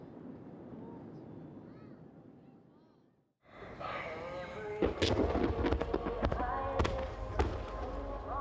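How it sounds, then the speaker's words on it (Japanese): After a brief hush, fireworks burst in a rapid series of loud booms and crackles, overlapping and echoing, following a stretch of murmuring crowd noise. "戦災から80年の夜空に白一色の花火が広がります"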